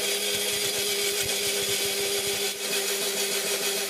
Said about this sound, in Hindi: अब इसे हम ग्राइंड कर लेते हैं।